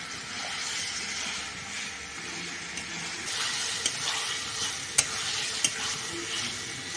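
Potato and pointed gourd fry in oily spice paste, a steady nearby sizzle with a few louder spatula knocks and scrapes toward the end and no speech.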